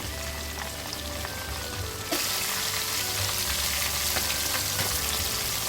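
Pomfret fish frying in a pan, a steady close hiss of oil that grows louder and brighter partway through, continuous crackling with no voices.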